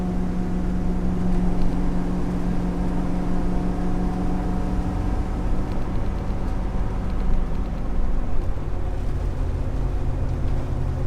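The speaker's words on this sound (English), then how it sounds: "Driving the big RV, me and Jeremiah, riding on down the road." A big RV cruising down the road, its engine drone and road rumble holding steady and close throughout, with no talk over it.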